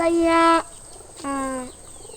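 Two short, tonal pigeon coos, the first about half a second and the second slightly longer, separated by a pause, fairly close and clear over a quiet background.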